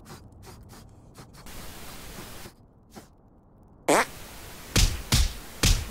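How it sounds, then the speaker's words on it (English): A fart sound effect, the Sneaky Squeaker, comes as several short, loud, squeaky bursts close up near the end, after quieter scattered noises and pauses. "I'm going to teach you a fart called the Sneaky Squeaker."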